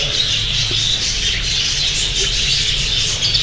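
Budgerigars in a breeding aviary keep up a dense, constant chatter of chirps and squawks from many birds at once, loud and close throughout.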